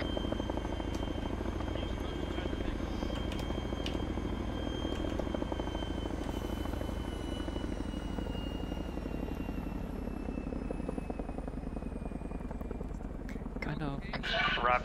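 A helicopter in the Arma 3 military video game runs with a steady, close engine drone and rotor thrum that stays loud and constant, while players talk over it and a brief clatter comes near the end.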